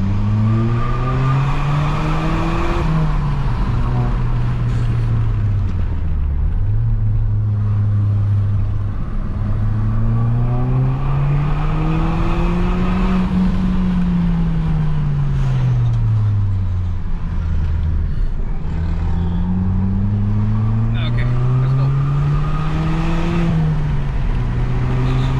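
A Skoda Octavia VRS accelerates hard, its loud engine note climbing steadily, dropping at each gear change and climbing again in repeated sweeps, heard close with no talking.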